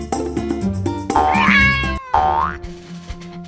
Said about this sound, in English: Meanwhile, Max made sure that the cats were safe.